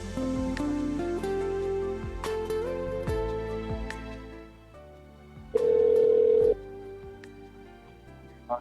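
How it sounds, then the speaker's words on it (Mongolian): A telephone call tries to connect, with a series of beeps and tones followed by a loud sustained tone lasting about a second, heard alongside tonal background music. "Эргээд утас руу нь холболт хийгээд үзье."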